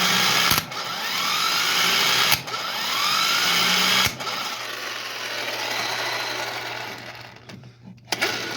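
A Harbor Freight impact gun drives bolts back in, a continuous loud whirring and rattling hammering that stops abruptly a few times for brief gaps before starting again, the tool close by.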